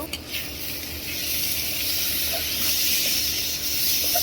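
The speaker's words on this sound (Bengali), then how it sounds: "চাপা দিয়ে একটু কষাই নিব" Chepa shutki (fermented dried fish) being stir-fried in a pan, a steady sizzling hiss with occasional light scrapes and taps from stirring.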